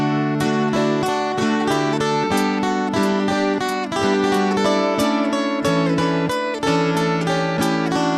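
A dulcimer loop plays layered, bright plucked and strummed notes in a steady repeating rhythm, sounding close and full throughout with no voices. It keeps going to the end rather than fading.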